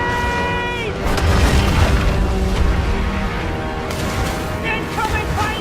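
Cannon fire at pirate ships in a video game booms in a low, sustained rumble under music and a spoken voice.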